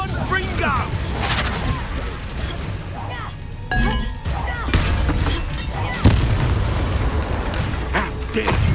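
Blasting curse explosions in a Hogwarts Legacy fantasy battle: loud booming bursts with sharp cracks and clinks amid a dense, busy game mix, with voices calling out over the action.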